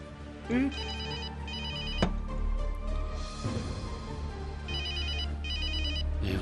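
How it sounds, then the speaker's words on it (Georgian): A telephone rings with repeated electronic trill bursts in a steady pattern, moderately loud over a low background hum in a drama scene. "მამა ჩემი რეკავს."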